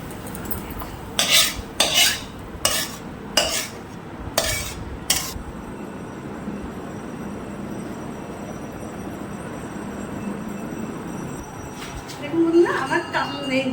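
Prawn malaikari is stirred in a pan, a run of sharp metallic scrapes and clinks of a spoon against the pan in the first few seconds, then a low simmering hiss with a voice faintly present.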